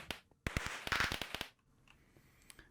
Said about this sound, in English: Of course there's fireworks.